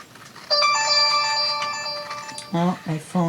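A mobile phone resting on its charger plays a melodic electronic ringtone of repeated tonal notes, close and fairly loud, and a person starts speaking over its final notes.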